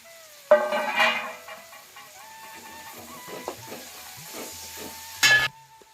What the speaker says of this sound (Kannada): ಒಂದು ಮೀಡಿಯಂ ಫ್ರೈ ಮಾಡ್ಕೊತೀನಿ ನಾನು